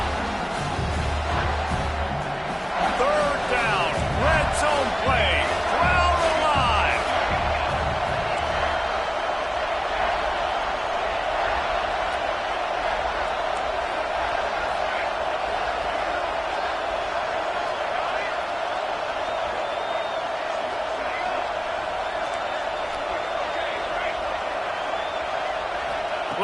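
A stadium crowd at a college football game roars during a third-down red zone play, a dense sustained wall of noise with a commentator talking at the start that fades under the continuous cheering.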